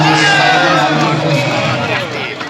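Spectators at a local club cricket match in Pakistan cheer loudly, a dense roar of voices and shouts, with clapping likely buried in the noise.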